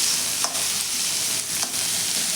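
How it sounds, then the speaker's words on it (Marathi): Chopped onion sautés in hot oil, a loud, dense, steady sizzle with two brief stirring scrapes; no voices. "इकडे आपला कांदा परतून होत आहे"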